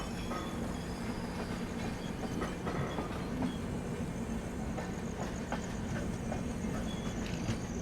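Supaul Pune Express, formerly the Danapur Pune, running steadily on rails with a continuous low rumble and faint wheel clatter, close and sustained throughout.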